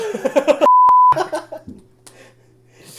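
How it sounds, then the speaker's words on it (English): A sharp, steady censor beep cuts through a voice for about half a second, with talking on either side of it. "I might beep that out"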